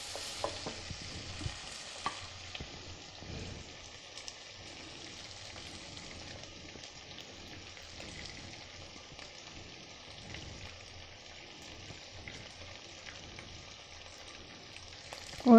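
Chicken keema fries with green chillies added, producing a soft, steady crackling sizzle close by with occasional faint stirring taps and a sharper knock at the very end.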